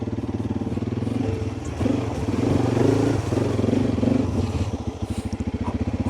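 A Tusk DSport dirt bike on 17 psi tires chugs in first gear through a mud hole, its engine thumping steadily with a brief throttle rise and splashing, scraping clatter, close by.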